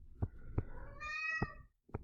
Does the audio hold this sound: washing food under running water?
no